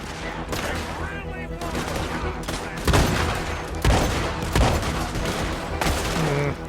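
Gunfire in the video game Red Dead Redemption 2, including shotgun blasts, in repeated loud bursts of overlapping shots spread through the clip.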